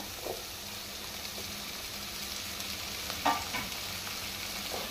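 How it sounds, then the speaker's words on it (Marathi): Two chopped medium tomatoes added to onions frying in a pan for chicken sukkha, a soft steady sizzle with a couple of brief splashes and stirring clatters, fairly quiet, no talking. "2 मिडियम सायज हांवें टोमॅटो चिरून घेतला, ते घालून घेता."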